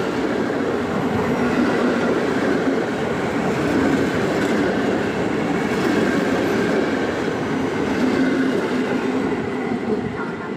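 An Intercity train rolls into Goleniów station on track one, its steady rumble and clatter of wheels on rails filling the platform, loud and continuous throughout.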